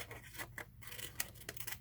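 Scissors cutting a circle out of paper cupcake liners for a patriotic doll craft make soft, close snipping and crinkly rustling in quick irregular strokes, faint overall.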